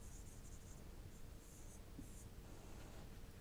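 Marker or chalk writing on a board during a database lecture, a faint, steady scratching in short bursts against a constant background hiss.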